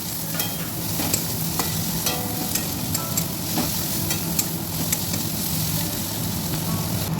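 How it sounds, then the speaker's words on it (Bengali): Chopped onions fry in a pan of oil for coconut chicken, with a steady close sizzle and repeated light scrapes and taps of a spatula stirring them, no voices. "এবার আমি এই পেঁয়াজটাও অল্প করে ভেজে নেব।"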